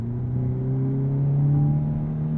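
A 2023 Hyundai Elantra N with a dual-clutch transmission accelerates in normal mode, its engine drone heard from inside the cabin as a steady, loud hum that climbs gradually in pitch with speed.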